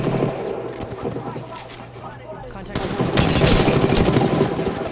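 Rapid automatic gunfire crackles from behind the player in a first-person shooter video game, loud bursts that swell and continue, heard alone without talk.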